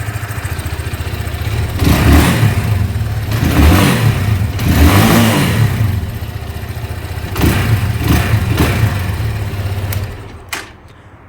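A motorcycle engine idles with a steady low rumble, revving up in several loud surges before settling and cutting out near the end.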